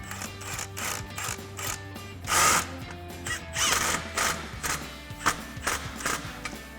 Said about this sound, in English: take a 13mm socket to tighten it